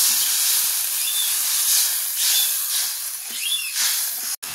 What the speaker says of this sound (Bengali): গ্রেভিটা ফুটে গেছে